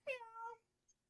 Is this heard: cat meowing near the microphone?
yes